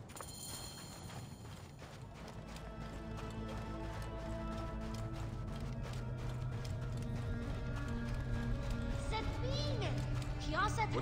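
Horse hooves clip-clop rhythmically in Assassin's Creed Origins, played on PlayStation 5, steady and fairly close over game music and ambience, with a brief whinny-like sound near the end.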